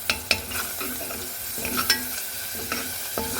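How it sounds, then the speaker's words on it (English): Chestnut roast ingredients sizzling and frying in a pan, with a few sharper clinks and scrapes of stirring breaking through the steady hiss. "Sizzling away."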